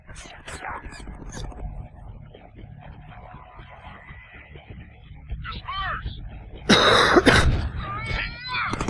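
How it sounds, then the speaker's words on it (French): A player coughs and clears his throat while playing the Deadpool video game, a short harsh burst standing out loudly over ongoing game sounds and chatter. "Excusez-moi pour mes toux."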